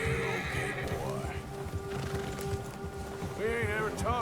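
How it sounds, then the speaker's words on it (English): An agitated horse spooked by a bear in the video game Red Dead Redemption 2 whinnies and neighs repeatedly over steady hoof clip-clops and background game ambience, loud and close. "The bear has spooked your horse."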